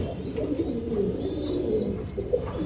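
Pigeons in a loft keep up a continuous low murmur of overlapping coos, close and steady, with no talk.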